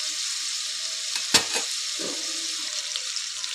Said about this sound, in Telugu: ఒక 5 మినిట్స్ మనం మంచిగా బెండకాయని ఆయిల్లో మగ్గనిద్దాం.